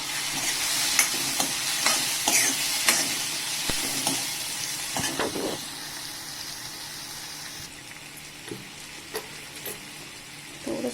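Tomato and onion fry in a pan with a little turmeric, a soft steady sizzle broken by repeated scraping and clacking as a spoon stirs, louder in the first half and quieter toward the end.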